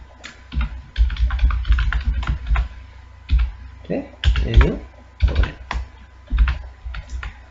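Fingers type code for a C program on a computer keyboard in rapid clusters of clicks, close and clear, while someone talks over the keystrokes.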